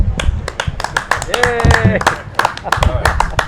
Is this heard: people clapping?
yes